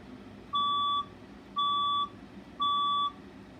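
A building fire alarm sounds during a test, giving three evenly spaced electronic beeps, each about half a second long, with nobody speaking.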